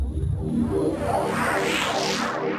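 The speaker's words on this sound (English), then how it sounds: "as you can hear, it makes everything a bit wobbly," Arturia refracting effect plugin on a dub techno track, giving a wobbly, washed-out wash of smeared tones with a murky low pulse, steady and moderately quiet throughout.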